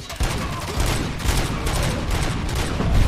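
Dense, continuous gunfire in the video game RoboCop: Rogue City, rapid overlapping shots forming a loud sustained barrage with no letup.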